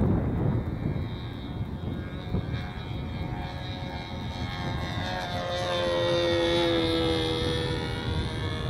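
Sig Smith Miniplane model airplane flying the pattern at a model airfield in Hemet, California, its small engine droning continuously and rising in pitch as it passes nearer, alone with no talk.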